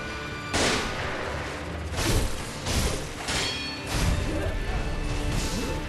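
Heavy gunshot blasts from an enemy gunner in Sekiro, several loud booming impacts spaced a second or two apart over a rumbling battle backdrop.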